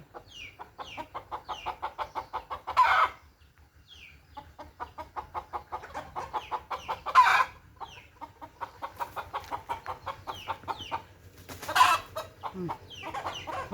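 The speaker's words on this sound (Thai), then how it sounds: "แม่ไก่" A hen clucks repeatedly in an evening farmyard, a steady run of close, rhythmic clucks punctuated by a few louder, sharper calls.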